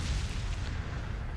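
A cannon shot explodes in Resident Evil 4, a deep rumbling boom with a brief burst, heavy low-end and sustained roar filling the short span without speech.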